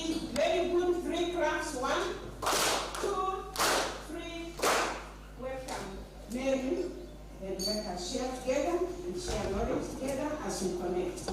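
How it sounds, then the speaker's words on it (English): At a university research conference, an audience gives three distinct, evenly spaced claps while a voice keeps talking around them. "Let us give very good 3 claps. 1, 2, 3."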